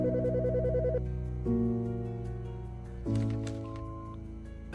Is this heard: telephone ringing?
yes